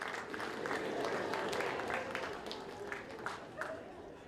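An audience at a school district address claps together, a sustained crowd applause with scattered cheers and voices mixed in.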